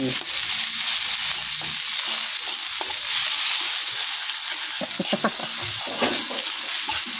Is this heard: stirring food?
yes